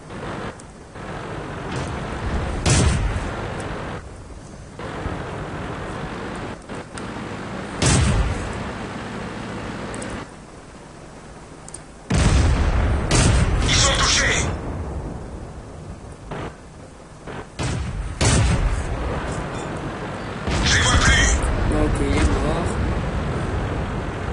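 Tank cannon shots and explosions from the World of Tanks video game boom out as several loud, sharp blasts over a steady rumbling background, with a voice talking at times between them.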